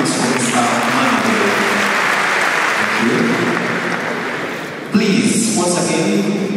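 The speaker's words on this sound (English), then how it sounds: "a round of applause for the good master's manager" Applause from an arena audience for a speaker at a large event, a loud broad wash of clapping that sits under a voice over a sound system for much of the time, with a louder surge near the end.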